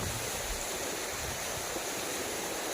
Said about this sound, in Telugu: చూడండి, వాటర్ ఎలా ప్రవహిస్తుంది.